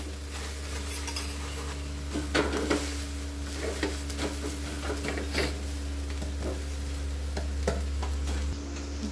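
A steady low sizzle of uttapam frying in oil in a pan, with intermittent scraping and clinks of a spatula against the pan and a constant hum underneath.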